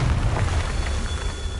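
A Confringo fire spell explodes in the Hogwarts Legacy video game with a rumbling, boomy burst and crackling tail, heavy in the low end and sustained through the short moment, with no talk.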